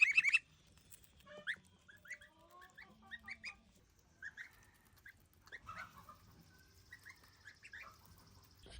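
Young goslings peep and chirp in short, scattered high calls at close range on a farm, several quick bursts with quiet gaps and a soft rustle underneath.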